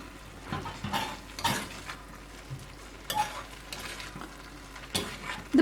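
Chicken keema with garam masala is stirred in a frying pan, with a spoon scraping and knocking against the pan in irregular strokes over a faint background sizzle.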